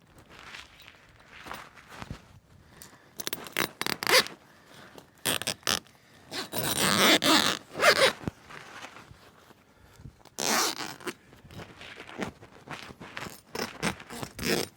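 A tent cover on a camping trip in Crete is zipped in several bursts of rasping zipper pulls, some long and loud, some brief, separated by quieter rustling and handling of the fabric, with no talking.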